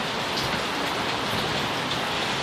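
Heavy rain falls during a severe thunderstorm, a loud dense close hiss of drops pounding surfaces, steady and unbroken throughout with no thunder evident.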